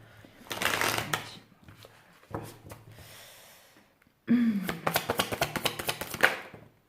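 Tarot cards being shuffled for a reading: several bursts of riffling and flicking, the last a long run of quick, crisp card snaps, close and fairly loud, with no talk.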